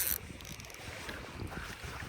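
A fishing boat on open water during a carp fishing trip makes a brief, quiet wash of water and hull noise mixed with wind buffeting the microphone, with no talking.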